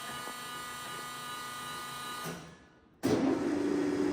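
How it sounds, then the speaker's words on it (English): Leblond Regal 19 by 54 inch engine lathe running with a steady mechanical whine and hum, dipping briefly as the gears change, then surging back louder and rougher at the new spindle speed. "Now the gears are shifting to 219 RPM."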